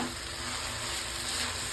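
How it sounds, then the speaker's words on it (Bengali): Rice with bay leaves, ginger paste and onion fries in oil in a pan, a steady close sizzle with faint stirring scrapes throughout and no voices. "কিছুক্ষণ নেড়ে চেড়ে একদম ভাজা ভাজা করে নিব।"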